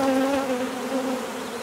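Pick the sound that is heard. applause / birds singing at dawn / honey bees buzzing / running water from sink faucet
honey bees buzzing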